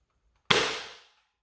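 Dart Zone Pro MK 2.1 foam dart blaster firing a single shot, a sharp, close snap followed by a half-second hiss of released air, with silence before and after.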